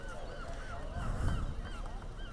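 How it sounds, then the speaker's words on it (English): Seagulls call faintly at a seaside spot near an opening swing bridge, with short squawking cries over a busy outdoor wash of background noise. "All I can hear is the seagulls and people walking past"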